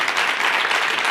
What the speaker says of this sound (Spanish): yo pido un aplauso para Lucía.